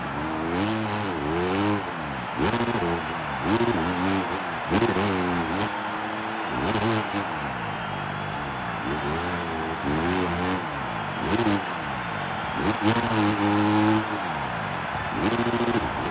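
Motocross bike engine in the Monster Energy Supercross 2025 video game, revving hard and climbing repeatedly through quick upshifts, a loud, rising and falling whine that cycles steadily with short breaks; no talking.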